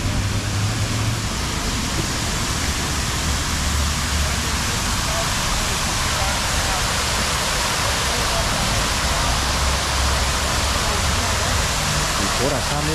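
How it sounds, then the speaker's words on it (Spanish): A waterfall in downtown Hamilton, Ontario gives off a loud, steady, rushing roar that fills the whole stretch without pause. "tiene una bonita cascada que ahorita está todo lo que da"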